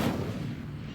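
The Incendio fire spell cast in Hogwarts Legacy, a single heavy booming burst that rumbles and fades within a second.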